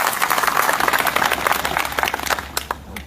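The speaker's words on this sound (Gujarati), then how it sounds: "તમારા પોતાના માટે તાળીઓનો આવકાર થઈ જાય" Farmers at a rally clapping in a burst of applause, a dense patter of many hands close by that holds steady for a few seconds and thins toward the end.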